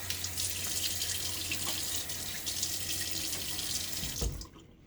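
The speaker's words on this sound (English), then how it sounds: "So a little splash of water on my face." Tap water runs steadily into a bathroom sink with hard water on a chilly day, splashing close and clear as it is scooped onto a face, then cutting off abruptly near the end; no talking.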